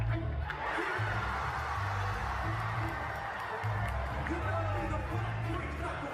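A large concert crowd sings along at a Sonic Symphony live show, a dense loud roar of many voices blended with the music throughout.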